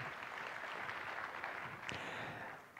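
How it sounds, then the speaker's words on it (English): A conference audience gives the program committee a round of applause at a keynote session. The steady clapping is faint and distant and continues for nearly three seconds. "big round of applause for the program committee"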